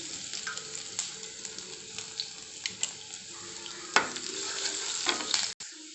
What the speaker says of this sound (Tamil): எண்ணெய் காஞ்சிருச்சு, இப்போ நம்ம பூண்டை போட்டுருவோம்.